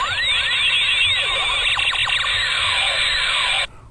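A Power Rangers toy gun sounds a loud, shrill electronic siren with warbling sweeps for several seconds before stopping abruptly.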